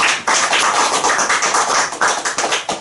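Audience members at a Korean history lecture clap loudly and steadily for about three seconds, with dense, close hand claps that thin out slightly toward the end.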